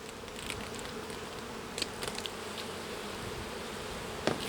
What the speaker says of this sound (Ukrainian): Відкриваю вулик, ось така кількість тут бджіл.